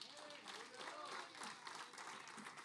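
A church congregation claps together in a dense, continuous wash of applause that rises and falls at moderate distance, with a voice speaking over it.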